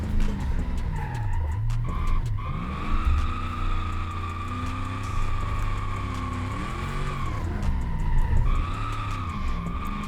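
A 6x6 drift truck in the BeamNG Drive video game slides through a drift, its tires screeching in long continuous squeals over a loud, rising and falling engine drone, with no talking.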